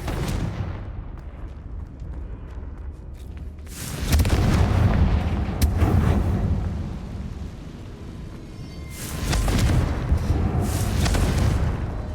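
Booming spell blasts from the Confringo curse in a Harry Potter video game, heavy low rumbling explosions swelling in two long bursts with crackling tails, loud and alone with no talk.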